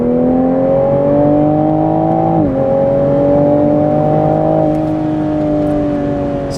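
A Toyota A90 Supra fitted with an Fi exhaust accelerates hard, heard from inside the cabin: a loud, smooth engine drone rising in pitch, dipping briefly at a gear change, then climbing again.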